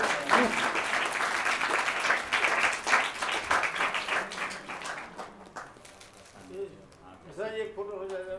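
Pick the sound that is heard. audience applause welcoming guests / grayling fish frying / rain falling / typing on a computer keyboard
audience applause welcoming guests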